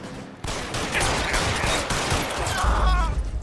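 Sustained machine gun fire in the video game L.A. Noire, a loud, rapid rattle of shots starting abruptly and continuing with heavy low booms toward the end.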